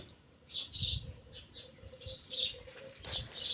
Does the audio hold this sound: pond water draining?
no